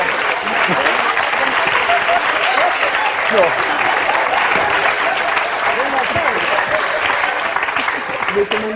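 A TV game show studio audience claps in a loud, continuous roar, while voices and laughter rise over the clapping and someone briefly speaks.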